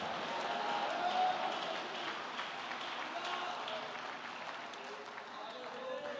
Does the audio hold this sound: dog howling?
no